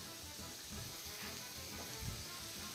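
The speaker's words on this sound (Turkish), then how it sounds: "Etlerimizi güzelce tereyağında kavuracağız." Lamb pieces seasoned with fresh thyme fry in butter in a pan, giving a close, steady sizzle with soft crackles and no talking.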